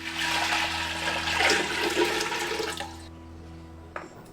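Water gushes steadily into a cooking pot for boiling rice, a full splashing pour that cuts off abruptly, leaving a quieter drip and a faint clink.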